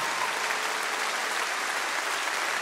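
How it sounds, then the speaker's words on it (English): Audience applause at the Grand Ole Opry, a dense, steady clapping from a large crowd that stays even and fills the room for the whole clip. "please give them a round of applause"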